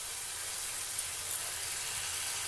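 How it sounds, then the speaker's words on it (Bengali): Steady broadband sizzling of spice paste frying in oil for a Bengali village-style chicken curry, close and even, with a few small pops and no talk. "এখন আবারও মশলাটিকে ভালোভাবে কষিয়ে নেব।"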